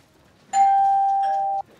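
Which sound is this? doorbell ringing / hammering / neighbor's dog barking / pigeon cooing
doorbell ringing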